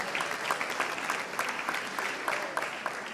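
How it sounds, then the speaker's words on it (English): An audience at a pizza awards ceremony in Milan gives a round of applause for partners on stage, a steady wash of clapping at moderate distance with no talk over it. "A big round of applause for our phenomenal partners."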